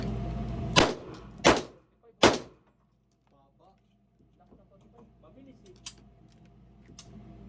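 Three sharp, loud gunshots in quick succession at an indoor firing range, echoing off the walls, followed by quieter clicks, clatter and a couple of faint distant shots.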